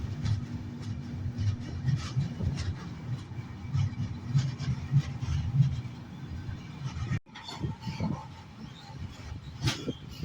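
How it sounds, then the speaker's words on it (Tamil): A Cuddalore Port–Mysore Express train rumbles along steadily with a low rolling drone and faint rattling, its tone shifting abruptly partway through as it crosses the Amaravathi river bridge. "நம்ம ட்ரெயின் இப்போ அந்த அமராவதி ஆற்று பாலத்து மேலே போயிட்டு இருக்குது."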